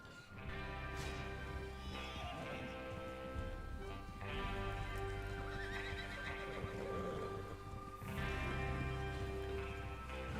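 Horses in the Red Dead Redemption 2 video game trot with clip-clopping hooves, several close whinnies and snorts breaking out over a steady low rumble, under game music with no speech.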